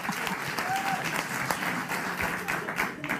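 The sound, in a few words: audience applauding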